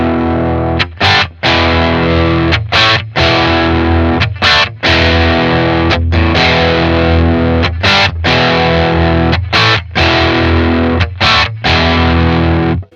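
Electric guitar through a Boss Katana amp on its Natural Overdrive patch plays the riff: loud, crunchy distorted chords in a choppy rhythm with short stops between hits, and no talking.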